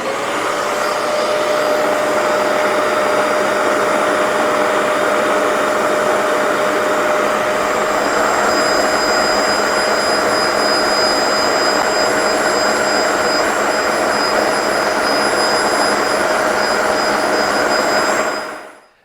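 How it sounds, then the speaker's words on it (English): Bissell ProHeat 2X Revolution carpet cleaner running, a loud steady motor roar with a high whine held continuously for nearly twenty seconds before it shuts off, no talking. "That is how to use this Bissell carpet cleaner."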